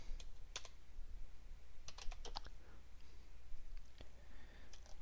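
Keys clack on a computer keyboard as a Windows Server command is typed, irregular bursts of close clicks over a low steady hum.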